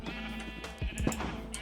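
A sheep bleats in a Minecraft-style game called ChaosCraft, a short wavering cry heard clearly over a steady droning background hum.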